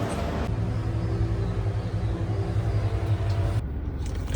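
Pune road traffic on a bridge gives a continuous low engine rumble and hum of vehicles, steady and fairly close. It carries on alone, with no talking.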